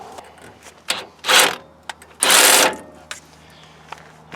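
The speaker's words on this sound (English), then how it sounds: "So this is where a impact wrench is helpful." Bursts from an impact wrench working on a Nissan Titan control arm during a suspension replacement, two loud sustained hammering runs of about half a second each, with shorter clicks and taps between them and no talk.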